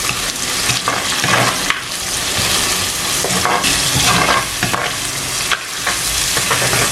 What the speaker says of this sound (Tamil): இப்போ இதை மிக்ஸ் பண்ணி போட்டு ஒரு 3 நிமிஷம் வதங்க விடுவோம்.